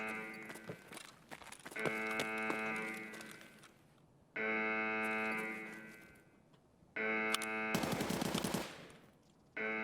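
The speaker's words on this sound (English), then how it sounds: "So that's an RPK, I think." In the video game Escape from Tarkov, an RPK machine gun fires three long bursts of rapid automatic fire, loud and close, with brief gaps between the bursts. No one speaks.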